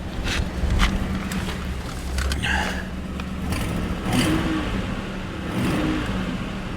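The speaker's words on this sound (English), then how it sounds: "I hear exhaust leaks." A car engine with an exhaust leak idles roughly and revs, with a steady rumbling drone and a raspy, leaky exhaust note, wind noise over the top.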